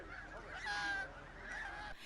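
Goslings in Ağrı, Turkey, honking in a loud, overlapping chorus, with harsh repeated calls strongest near the middle and continuing to the end.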